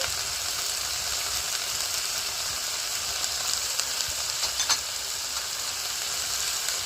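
Cauliflower and potato sautéing with turmeric in a pan for khichuri, with a steady, close sizzle and faint stirring scrapes throughout.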